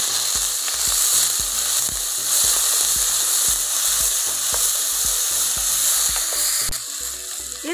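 Onion frying in a pan with cumin, fennel and cloves for a drumstick leaves soup, a steady loud sizzle with frequent stirring clatters throughout, no voices.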